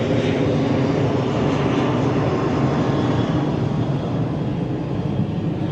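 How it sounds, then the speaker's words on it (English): A plane passes overhead close to Chiang Mai airport, its steady loud jet roar filling the whole stretch with a broad, unbroken rumble and no talk. "There's a plane overhead."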